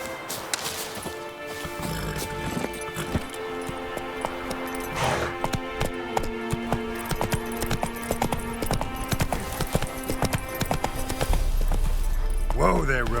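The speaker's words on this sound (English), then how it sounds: "Whoa there, Roach" Galloping horse hooves in The Witcher 3, a steady, rapid clip-clop running under game music and sound effects, with a voice speaking over it.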